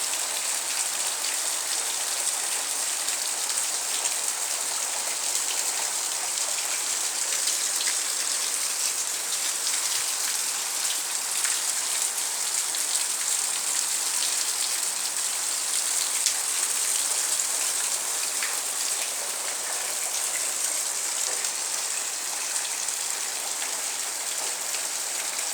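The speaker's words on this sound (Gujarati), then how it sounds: "અતિ ભારે વરસાદ રાતના 4 વાગ્યા પડી રહ્યો છે" Very heavy rain falls at night on a village, a dense, steady hiss of downpour on surfaces that stays loud and even throughout with no voices or other sounds.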